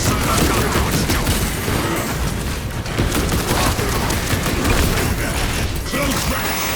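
Dense, continuous mechanical clatter and rapid bursts of gunfire from Warhammer 40k Space Marine, with ratcheting, gear-like noise layered throughout and no break in the din.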